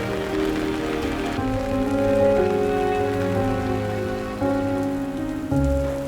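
Steady rain falls in Shillong, Meghalaya, a dense, continuous patter on surfaces that stays close and even from start to finish, with no voices.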